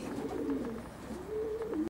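Soft, low racing pigeon cooing murmurs in a continuous rolling phrase, close by, with no talk over it.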